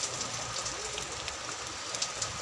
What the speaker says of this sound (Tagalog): Umuulan ngayon, oh.